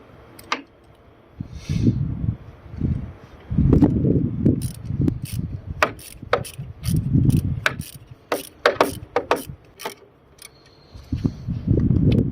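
Bolts tightened with a number 7 wrench on a Fiat Stilo Abarth under repair, with irregular close metallic clicks and ratcheting taps in bursts, plus dull handling knocks, no talk.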